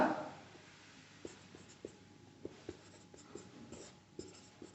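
Writing on a board or paper, a series of soft, regularly spaced taps and scratches close by, with no talk over them.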